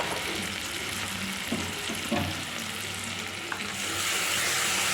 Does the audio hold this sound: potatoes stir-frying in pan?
yes